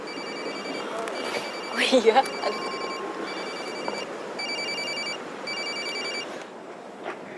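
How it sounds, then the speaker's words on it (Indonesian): A telephone rings in a home during an Indonesian TV drama, its repeating electronic trill pulsing steadily at moderate volume behind a brief spoken reply and room noise. "Telepon tuh, angkat."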